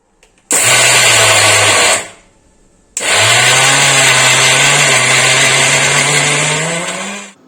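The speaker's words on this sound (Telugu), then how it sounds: "నేను లాస్ట్ టైం కళ్ళుప్పు తెప్పించాను అది మిక్సీ పడుతున్నా" A mixer grinder grinding rock salt, roaring loudly in a short burst, then stopping briefly before a longer steady whine that rises slightly in pitch and tails off.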